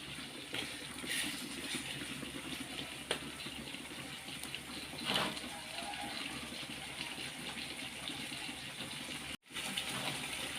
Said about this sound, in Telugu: కొద్దిగా వాటర్ వేస్తున్నాను